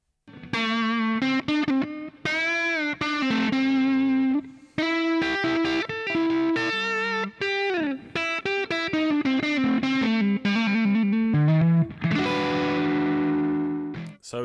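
Distorted electric guitar with a Marshall-style overdrive tone plays a melodic riff of sustained, bending notes with gritty overdrive, loud and solo, pausing briefly between phrases.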